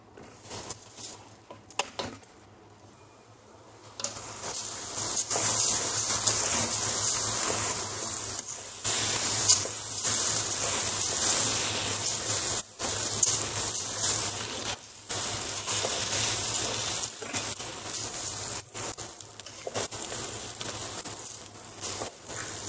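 Rice poured into a pan of golden fried vermicelli sets off a loud, steady sizzle and crackle that starts a few seconds in and holds throughout, with no talking.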